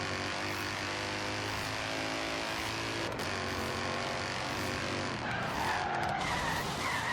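Tires squeal in a long continuous skid as a modified LS3-swapped E36 BMW drifts in Forza Horizon 3, the engine droning underneath and the screech rising toward the end, with no talking.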